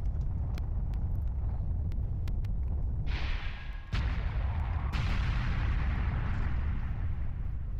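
A character exploding in Mystical Ninja Starring Goemon sets off a loud burst of crackling blast noise that breaks off, then a second explosive rush follows and fades over a steady low rumble.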